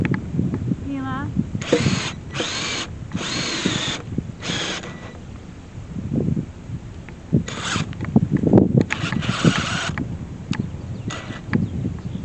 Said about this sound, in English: Let's try and drill.